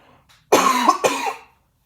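Two close, sharp coughs in quick succession, the second slightly weaker, with silence before and after.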